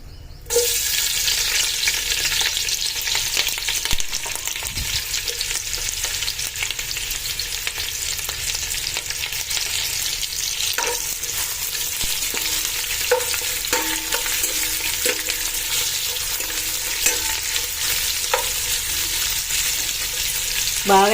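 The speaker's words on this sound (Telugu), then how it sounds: "ఇదిగోండి ఉల్లిపాయలు అయితే కనుక బాగా వేగిపోయినాయండి" Onions and green chillies fry in hot ghee with bay leaves for prawn biryani, giving a loud, steady sizzle with scattered stirring clicks throughout and no voices.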